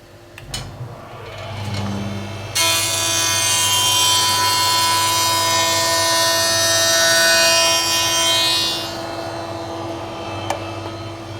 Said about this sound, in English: I'm going to dress one edge before I put it over the saw.